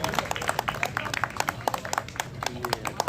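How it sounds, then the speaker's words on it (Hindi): A crowd at a protest movement gathering claps to welcome Chandresh Maurya, a dense patter of many hands that stays steady and moderately loud for the whole stretch, with faint voices beneath. "बहुत जोरदार तालियों के साथ उनका स्वागत करें।"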